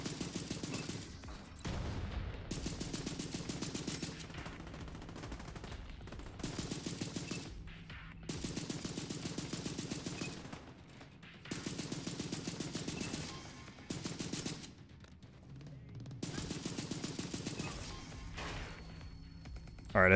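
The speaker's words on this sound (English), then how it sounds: "Yeah, this is a rifle." Rifle fire in the video game Division 2 Survivors, sustained bursts of shots in repeated strings separated by short pauses, loud and close over a steady game backdrop.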